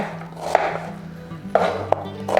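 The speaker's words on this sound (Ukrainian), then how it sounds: "Ріжу цибулю і теж її зараз перепустю через м'ясорубку" A knife chopping onion on a board for meat-roll filling, three or four sharp close chops spaced about a second apart over a low background hum, with no talking.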